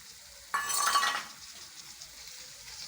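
Tomatoes dropped into a pan with fried onion and ginger-garlic paste, a sudden burst of loud sizzling that lasts about half a second, then settles to a faint hiss.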